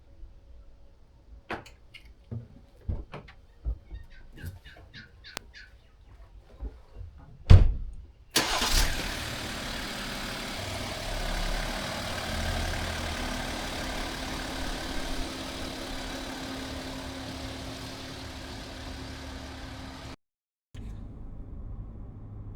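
An Ineos Grenadier 4x4 starts after several clicks and thumps, catches with a loud burst, then idles and drives off in a steady, fairly quiet mid-pitched hum that cuts out briefly near the end.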